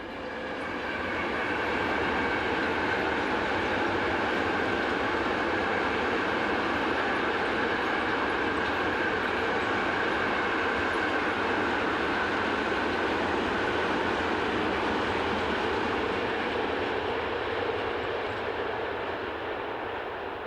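French SNCF BB26000 class electric locomotive running, a sustained steady rumble of a passing train with a continuous electric hum, fading slightly at the end.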